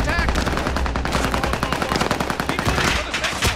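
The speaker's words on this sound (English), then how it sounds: "Where the fuck's that dude shooting from?" Sustained automatic gunfire in a Call of Duty match, dense overlapping bursts from several weapons that keep going throughout, loud and close, with shouted voices mixed in.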